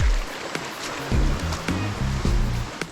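A forest stream near Barriowin Falls in Antipolo flows with a steady, broad rush of water, loud and close, with a few low thumps and bumps from someone walking nearby.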